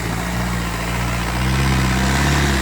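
An Arjun 605 tractor engine drones steadily and loudly at a village trolley-pulling contest in Ghaloti, its rumble rising slightly as it pulls under load.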